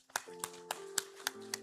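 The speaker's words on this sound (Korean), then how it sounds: "우리 예배를 받으실 하나님께 영광의 박수 한번 올려드리겠습니다" A few sharp, widely spaced claps ring out at a church Sunday worship service, roughly one every quarter second, faint against a held organ or keyboard tone.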